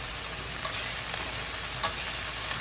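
Salted okra sabzi stirred in a hot pan over medium-high heat, a continuous sizzle and fry with a few light scraping clinks from the spoon.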